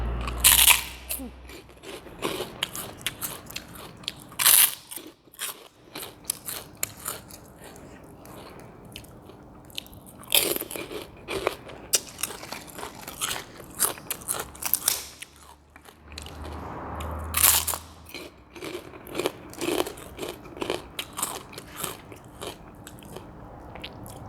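Crunchy fried chicken and crispy pork rinds being eaten alongside a spicy pounded bean salad with fermented fish, loud close bites and crackling chews repeating throughout, with occasional brief talk.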